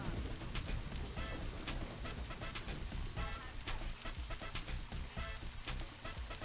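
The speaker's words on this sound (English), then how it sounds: "Oh god, now it's raining." Steady rain in the video game Deadly Premonition patters on a surface, a dense, even hiss with scattered droplet ticks and faint chirps in the background.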